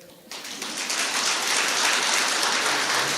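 Loud hand clapping builds after a brief quiet start, becoming a dense, continuous patter like a crowd clapping together at a women's gathering in Kutch.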